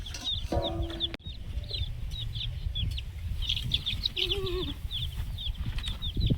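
Chickens clucking repeatedly around a rural home, several birds in short rhythmic bursts at mid distance over a steady outdoor background, with a brief thump partway through.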